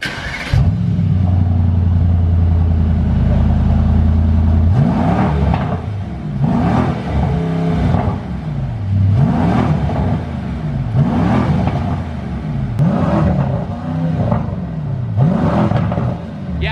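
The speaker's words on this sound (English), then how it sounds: "It idles really loud. The car is already warm and it sounds like it's doing a cold start." A straight-piped Mercedes E63S AMG fires up with a loud bark, then idles roughly and loudly at close range, its exhaust pulsing in repeated surging blips and burbles over about seventeen seconds, with no talk.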